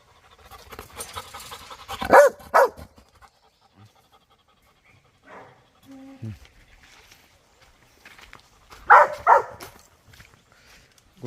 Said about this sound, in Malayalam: ലാബർ ഡോഗാണ് കേട്ടോ. Labour dog അലമ്പൻ.